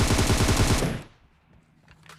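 Rapid automatic gunfire in PUBG, a battle royale video game: a loud, close burst of evenly spaced shots lasting about a second, then a quieter tail with faint distant sounds.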